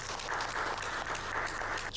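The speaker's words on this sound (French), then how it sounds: "Applaudissez-le." A small audience claps for a contestant, giving a brief, steady patter of applause at moderate volume under a low background hum.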